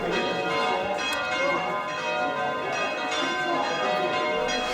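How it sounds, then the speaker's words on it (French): Church bells ring continuously in Croatia, layered tones overlapping in a dense, loud peal with no pauses. "c'est pour ça que les cloches sonnent beaucoup"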